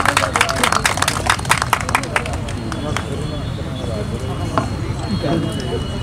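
An audience at a formal ceremony clapping in farewell, dense, lively applause from a crowd up close that slowly thins and softens toward the end.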